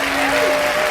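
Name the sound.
audience applause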